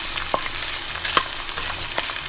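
Dried loitta fish (Bombay duck) frying in a pan gives a steady, fairly loud sizzle, broken by a few sharp clicks and scrapes from stirring.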